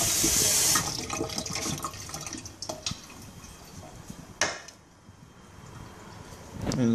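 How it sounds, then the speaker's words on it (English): Tap water runs briefly into a container of Gerber baby food to thin it, a short splashing flow that stops, followed by quieter clinks and small handling noises with a sharp knock near the end. "I'm just going to add a little bit of water into that"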